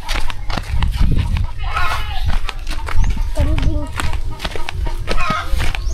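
Chickens cluck around a rural family home in the Philippines, scattered calls heard close by beneath steady talk from people walking past.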